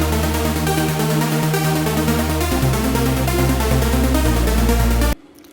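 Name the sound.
synthesizer sub pad under lead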